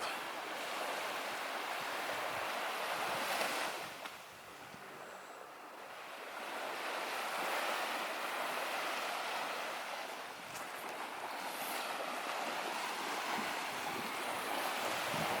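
Ocean waves washing onto a beach at Negril, a steady broadband rush that swells and eases in slow surges, mixed with wind noise on the microphone, no talking.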